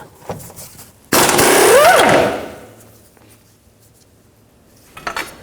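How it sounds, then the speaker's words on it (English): Metal clanks and the scrape of an 18mm socket on an engine mount nut of a 2009-17 Chevy Traverse: a short tap, then a loud sustained grinding rattle for about a second, fading, and later a few faint clinks. "Take this nut off right here, use an 18mm socket"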